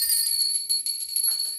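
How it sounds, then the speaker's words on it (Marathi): A hand bell rung during a Hindu puja, a continuous bright metallic ringing close by, steady and sustained throughout with no voices. "घंटा जरा वाजवायची म्हणजे देवांना जागृती येते की आपली देवपूजा आता सुरू आहे."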